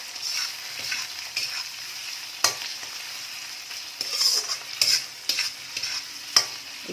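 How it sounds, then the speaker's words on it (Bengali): Prawns fry in hot oil for egg fried rice, a steady close sizzle broken by the scrape and clack of a spatula stirring at intervals. "এবার প্রনগুলো একটু ভালো করে ভেজে নেব।"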